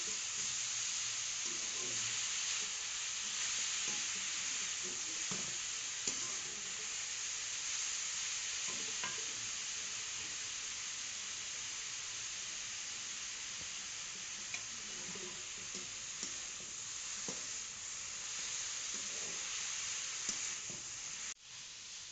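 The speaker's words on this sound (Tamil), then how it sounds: "கேரட் வந்து நல்லா வதங்கணும்." Chopped carrots sauté in a hot pan, a steady bright sizzle holding throughout with soft intermittent stirring scrapes, close and even, no voices.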